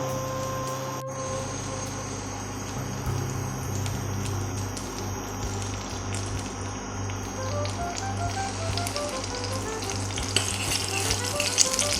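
Ghee heating in a pan gives a steady, moderately loud sizzle with light taps and stirring scrapes throughout, for semiya cooking, with no voices.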